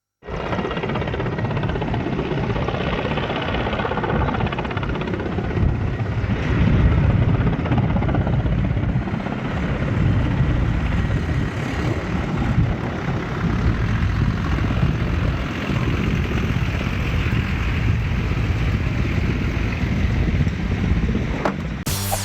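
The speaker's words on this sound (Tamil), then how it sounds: "ஹெலிகாப்டர் இறங்குதளத்தில் ஹெலிகாப்டரை தரையிறக்கி ஒத்திகை பார்க்கப்பட்டது" A helicopter landing on a helipad during a rehearsal, its rotor and engine droning steadily and loudly, a constant thrumming roar that stays close for the whole stretch.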